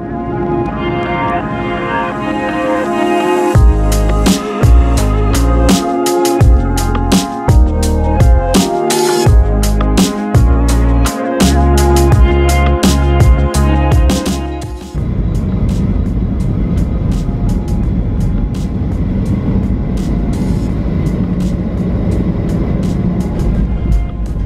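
Steady loud roar inside a jet airliner cabin while landing, with a broad engine and airflow rumble carrying on throughout, joined midway by a stretch of rattling, thumping jolts before the noise settles back to a smoother roar.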